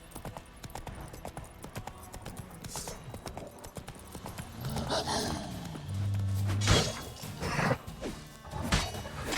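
In The Witcher 3, a horse gallops with a rapid clip-clop of hooves, close and fairly loud, mixed with game sound effects and a brief bump or crash.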